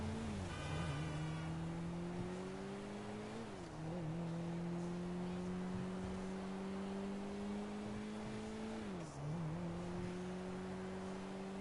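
Video game car engine from Grand Theft Auto V, a run-down car driven steadily, with a continuous droning engine tone rising and dipping in pitch as it revs, loud and unbroken throughout.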